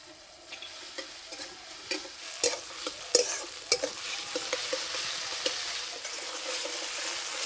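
Tomato and ginger-garlic paste fry in a pan for a pea dopiaza, a soft sizzle punctuated by sharp spatula clacks and scrapes, loudest in the first few seconds and then settling to a steady hiss.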